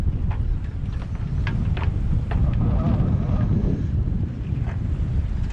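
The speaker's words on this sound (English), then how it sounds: "it's pretty windy today," Strong wind buffets the microphone in a continuous rough roar, with faint voices and brief clicks scattered underneath.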